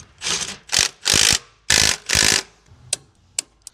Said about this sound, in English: Tightening bolts.